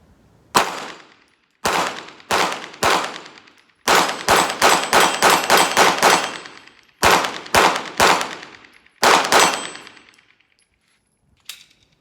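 Shadow Systems MR920 pistol fired at steel targets outdoors, with about fifteen sharp shots in bursts, some in quick strings, each followed by bright ringing steel clangs, then a faint final ping.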